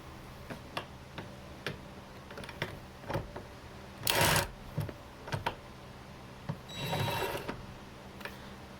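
A ratchet fitted with a wobble adapter loosening 15 mm seat bolts on a 2006-2016 Chevrolet Impala, heard as steady close-up clicking with a couple of louder metallic bursts in between.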